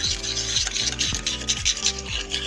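Masala for dahi bhindi is stirred and mixed by hand, giving close, repeated scraping and rubbing strokes in a steady rhythm, with no talk.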